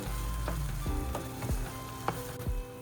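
Onion paste and whole spices fry in hot oil for an Indian garlic prawn roast, giving a steady close sizzle broken by a few soft stirring scrapes.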